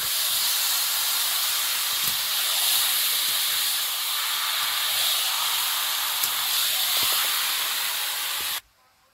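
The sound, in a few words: marinated meat sizzling in hot pan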